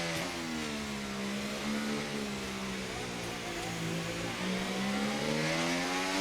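An F1 car in the racing game F1 24 accelerates on track on soft tyres, its high engine note climbing and falling steadily through the gears. The sound is continuous and moderately faint, and no voice is heard.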